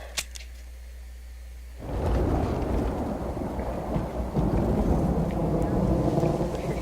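Heavy rain pours steadily in the Red Dead Redemption video game, a dense continuous hiss that swells loud after a quieter opening, with a brief sharp crack early on and low rumbling beneath.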